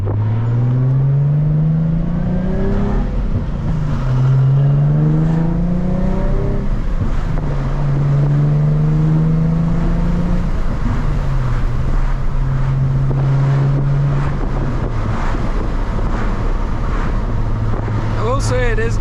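Nissan 350Z with a manual gearbox pulls hard through several gears, its engine note rising in repeated climbing sweeps broken by brief dips at each shift, loud and steady under constant wind and road roar inside the cabin.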